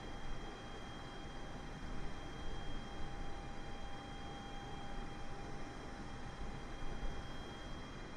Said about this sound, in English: There's our aircraft.